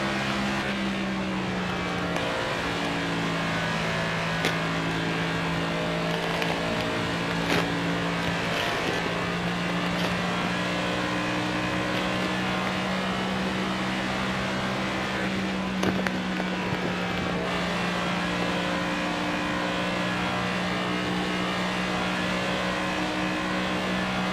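Race cars roar around Darlington in a racing video game. A steady, close engine drone holds throughout with slight pitch shifts and a few faint clicks and knocks. No voices are heard.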